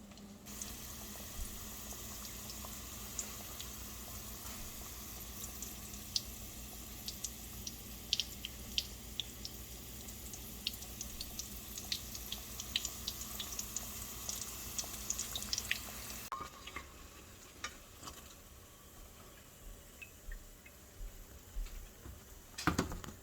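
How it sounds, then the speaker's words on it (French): Samosas fry in hot oil in a karahi, giving a steady close sizzling hiss scattered with small crackles and pops that thins out and quiets partway through. "mets le samousa dans notre caraï dans de l'huile chaude"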